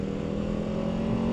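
Aprilia RSV4 1100 Factory motorcycle with a standard exhaust can and exhaust valve, a steady deep droning exhaust note held at moderate revs, close and fairly loud with no talk.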